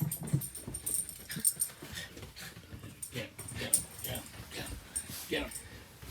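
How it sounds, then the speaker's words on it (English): A dog whimpers and gives short barks and yips, mixed with people talking nearby during a vintage bus rally. "this is an attack dog"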